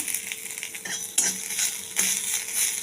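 A spatula scrapes and stirs ginger in a sizzling pan, with repeated strokes over a constant hiss of frying oil.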